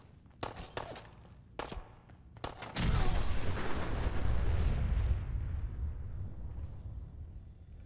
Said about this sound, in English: Atom Bomb!